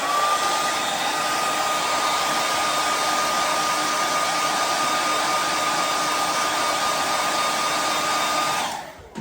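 A hair dryer or heat gun blows steadily for about nine seconds while warming a wooden cleat used to repair a guitar back crack. The airflow is loud and close and stays even, then cuts off abruptly at the end.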